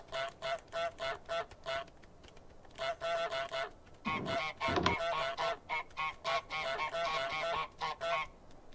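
Repeated goose honks from a video game, loud and close, come in quick bursts with brief gaps, growing denser and more frantic toward the end.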